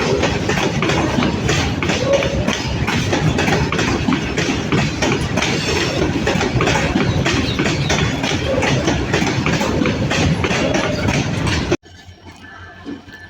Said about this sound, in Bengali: পোড়াদহ জংশন থেকে একটা মালবাহী ট্রেন দর্শনার দিকে ছেড়ে যাচ্ছে।